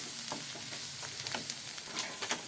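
Meat and spices sauté in a pan with a steady, close sizzle broken by soft scraping stirs, and no voices.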